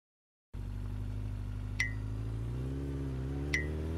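An animated tricycle engine drones steadily and loud from a sudden start, its low rumble shifting pitch partway through, with two short high beeps spaced apart and no talking.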